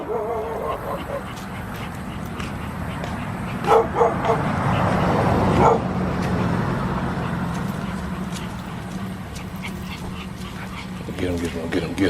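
Several dogs bark and yip in scattered bursts nearby while a person talks over them.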